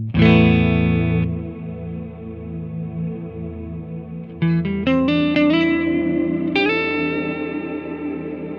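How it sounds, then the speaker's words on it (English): Electric guitar played through the cloud reverb setting of a LEKATO Tank-G effect pedal: a sustained strummed chord rings out in a wide, shimmering wash, then a run of single picked notes blooms and trails off into a lingering tail. "so this is the cloud reverb"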